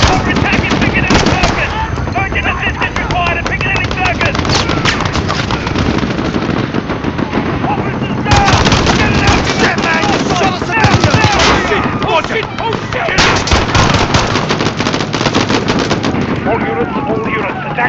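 Dense, sustained gunfire from Call of Duty: Modern Warfare, automatic bursts and heavy blasts filling the scene with loud, continuous shooting, with faint radio-style voices mixed underneath.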